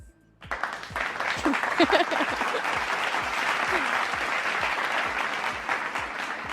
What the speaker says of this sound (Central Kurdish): دە چەپڵەم بۆ لێ